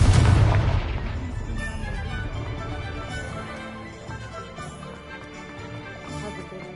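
The Confringo fire spell in Hogwarts Legacy bursts in a single loud, close blast, then rumbles and fades over several seconds with faint crackling debris.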